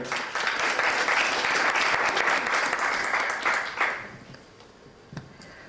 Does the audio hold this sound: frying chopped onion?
no